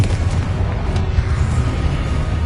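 Confringo blasting curse explosion in the Hogwarts Legacy video game, a loud, heavy rumbling boom that sustains as a deep roar with scattered crackles throughout.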